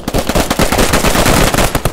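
Loud, close automatic gunfire from Squad 44 cracks in a fast, steady stream of shots filling the whole moment.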